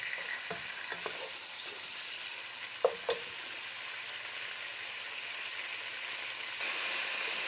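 Sausage fries in a pan with a steady, quiet sizzle and a few soft clinks of stirring, with no one speaking.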